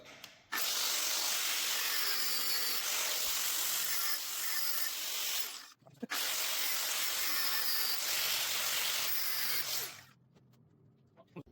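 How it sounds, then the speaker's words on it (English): A loud, steady angle grinder whines and hisses against a metal bolt on a Honda Melody moped in two long passes, briefly stopping in between, then cuts off. "let's bust out the angle grinder and see what we can do"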